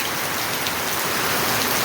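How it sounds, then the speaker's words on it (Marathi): Heavy rain falling steadily outdoors near farm fields, a dense, loud, even hiss of drops hitting surfaces with no pauses. "जोरदार पावसाला सुरुवात झालेली आहे"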